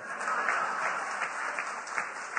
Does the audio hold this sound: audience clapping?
yes